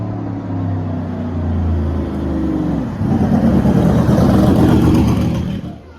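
A race car at the 2024 Pikes Peak International Hill Climb test approaches with a rising engine note, then roars loudly past close by, its revving blare sweeping through before fading at the end.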